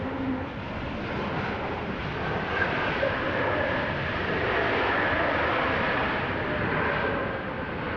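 A Boeing Dreamliner jet airliner with Rolls-Royce engines at Amsterdam Schiphol Airport produces a steady, broad engine roar that holds evenly for several seconds, loud and continuous with no voices.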